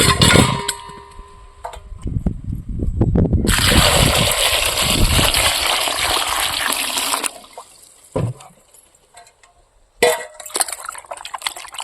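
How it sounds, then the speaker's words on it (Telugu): Water gushes into a container for several seconds, followed by splashing, sloshing and clinks as eggplants are rinsed by hand. "వీటిని ఒకసారి నీళ్ళు పోసుకొని నీట్గా అయితే కడుక్కుందాం"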